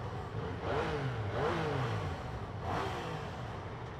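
A Yamaha FZ-09 motorcycle engine revs a few times at moderate distance, rising and falling in short throttle blips over a low idle rumble, with no speech.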